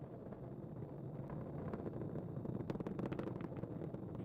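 SpaceX Falcon 9 rocket engines throttle back up during a Crew-8 launch, heard as a faint, distant broadband rumble with wind buffeting the microphone.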